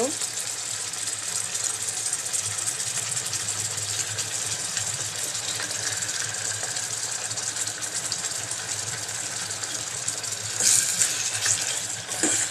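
Ginger-garlic paste fries in a pan for chicken biryani while it is stirred, giving a steady close sizzle that runs throughout, with a slightly louder clatter of stirring near the end.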